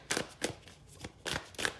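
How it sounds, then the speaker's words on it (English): Tarot cards are shuffled by hand in a quiet room, giving five or six quick, close riffles at an uneven pace with soft pauses between them. "They're not ready yet, so I will keep shuffling."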